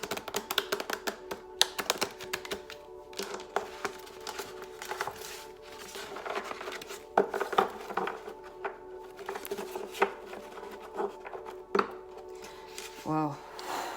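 Tarot cards are handled and shuffled in a steady series of light taps and clicks close by, over a faint steady hum, with a brief voice near the end.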